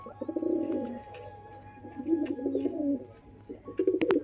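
Pigeons cooing close by in three soft, throaty bursts separated by short pauses, with faint background noise between them.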